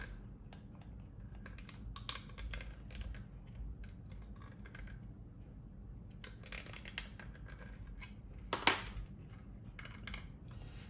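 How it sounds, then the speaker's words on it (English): Hobby knife (X-Acto blade) carving a plastic part of a 1/48 Monogram A-4F Skyhawk model kit to fit a straw: soft, close scraping and ticking cuts that repeat steadily with small sharp clicks, heard alone. "I'll take my X-Acto blade and we're going to keep just carving around until I get a nice snug fit with that straw."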